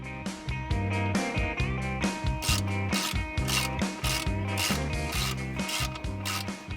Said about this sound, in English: Undo the 3 bolts that hold the pump on.